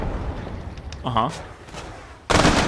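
Gunfire in the pixel-art video game Untitled Pixel Simulator, a sudden loud burst of shots near the end after quieter game sounds, with a voice briefly speaking earlier.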